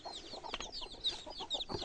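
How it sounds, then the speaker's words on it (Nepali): Chickens cluck and peep nearby in quick, overlapping bursts, two hens with their chicks giving soft high chirps scattered throughout, fairly quiet overall. "यहाँ हेर्नु है हाम्रो चाहिँ कुखुराको चल्लाहरू 2वटा माउ छ"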